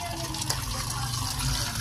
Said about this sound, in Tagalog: ating po itong ibababad muna sa tubig